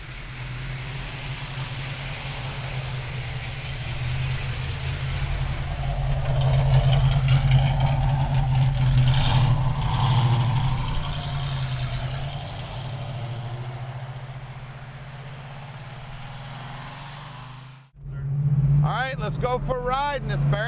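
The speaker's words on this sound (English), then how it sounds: "Go for a ride in this Barracuda 440 six-pack, four-speed." 1971 Plymouth Barracuda with a 440 six-pack V8 and four-speed idling, a steady deep rumbling burble close by that swells briefly, then cuts out near the end as a voice starts speaking.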